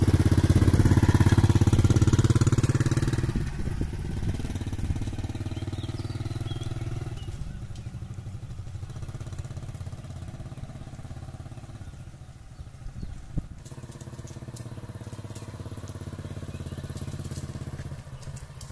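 A Honda EX5 motorcycle engine runs as a learner rider sets off: a loud idle at first, then a steadier, quieter mid-pitched running drone with small revving changes and a few clicks, continuous throughout.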